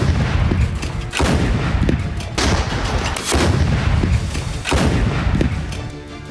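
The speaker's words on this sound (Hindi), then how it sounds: "बेरेंट सागर में रूस के एक और वॉरशिप एडमिरल कासातोनोव ने आर्टिलरी फायरिंग का अभ्यास किया है" Naval artillery fired from the Russian warship Admiral Kasatonov in the Barents Sea during a drill, heard as a series of heavy booming shots roughly every second with rumbling decay between them, loud and alone.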